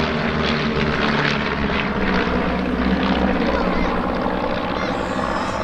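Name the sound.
aeroplanes flying in formation at airshow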